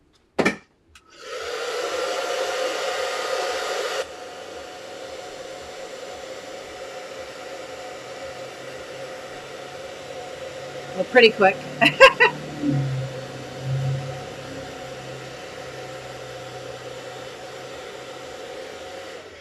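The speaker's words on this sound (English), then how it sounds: "I'm going to blow dry it just really quick." A hair dryer blows black gesso paint dry in an art studio: a steady, moderate whoosh running under the whole stretch while someone talks briefly over it.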